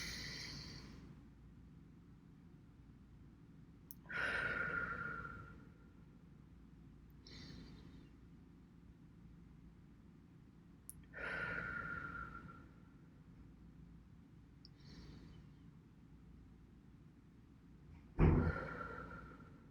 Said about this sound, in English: I'm just going to breathe.